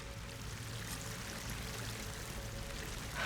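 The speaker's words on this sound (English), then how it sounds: "That waterfall must be coming from somewhere." Steady pouring rush of a waterfall in Horizon Forbidden West, continuous and moderately quiet throughout with no talk, swelling slightly louder at the very end.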